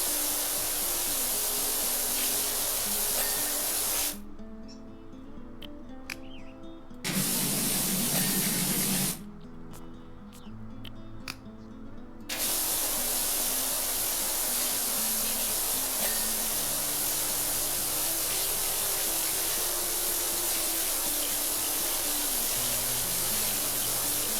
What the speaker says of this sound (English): Can I wash with one hand while I rinse with the other?